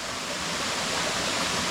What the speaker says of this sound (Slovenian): noter pada slap